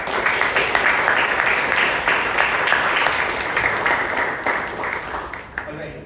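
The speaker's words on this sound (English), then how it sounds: "Good round of applause for those." Audience at a Toastmasters club meeting in Bangalore giving a round of applause: steady, fairly loud clapping from a room of people that fades toward the end.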